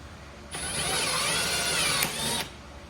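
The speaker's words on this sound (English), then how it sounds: "So here's the tool in action, guys. It goes on your drill, and then you just tighten." A power drill driving a tightening tool whirs steadily for about two seconds with a brief catch near the end, then stops against a quiet background.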